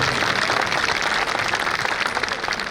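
Audience at a Hindu Sammelan gathering applauding performers, a dense steady wash of clapping from a crowd that holds even and sustained throughout with no voices over it.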